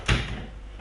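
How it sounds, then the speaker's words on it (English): A room door swings shut with one close, solid thud followed by a brief fading rumble. "Let me close my door for a second for the sound."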